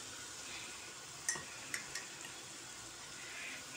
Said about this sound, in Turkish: Soğanlarım şahane bir şekilde kavruluyor ve iyice azaldı.